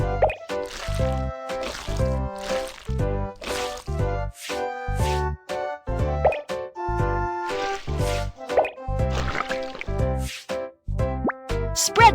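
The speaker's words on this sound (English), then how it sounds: "Add some oil on the pan." Cartoonish plops and liquid drips from oil being added to a pan in a children's cooking video game, the making of French crepes, repeating in quick bursts over bright game music.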